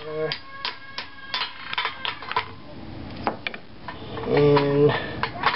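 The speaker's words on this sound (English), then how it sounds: "You're going to hammer this corner," A hammer drives an aluminium bushing into a Nissan 240SX, with about a dozen sharp metallic strikes in irregular bursts, close and loud, followed by a brief voiced sound near the end.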